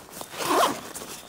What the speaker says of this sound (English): This is the zipper